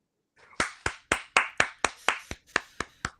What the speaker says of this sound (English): clap it up for Initial D